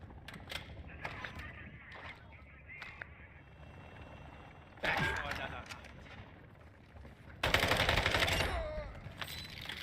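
SMG fire in the Call of Duty DMZ game mode, short rattling bursts early on and two longer, louder volleys later, with a person talking between them.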